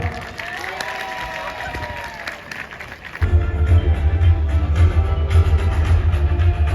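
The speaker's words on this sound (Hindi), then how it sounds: "मैं चाहूँगा कि आप अपने लिए ताली बजाइए" Audience clapping at a 2023 trade fair, light and scattered at first over a buzzing hall, then swelling into louder, fuller applause with crowd noise from about halfway.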